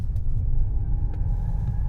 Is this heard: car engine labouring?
yes